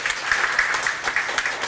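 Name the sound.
audience applause for award winners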